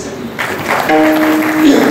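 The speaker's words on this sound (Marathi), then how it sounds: "परत एकदा टाळी वाजवते" An audience claps together at a kirtan during the Ganesh festival in Ukhali, a dense patter of hands starting abruptly and continuing under a sustained held vocal or instrumental tone.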